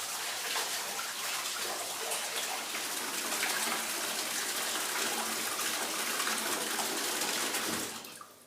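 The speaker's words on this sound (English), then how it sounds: "Water then starts to fill the spa." An alcove spa bathtub filling from its tub-filler spigot, with a steady, loud rush of water pouring into the tub that runs unbroken until it quickly cuts off near the end.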